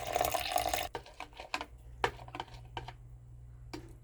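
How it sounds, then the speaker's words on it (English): Homemade almond milk is poured into a blender: a steady splashing pour for about a second, then a few scattered drips and small splashes over a quiet hum. "So I'm gonna pour some almond milk in here."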